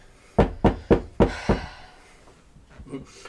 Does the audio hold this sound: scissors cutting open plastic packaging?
no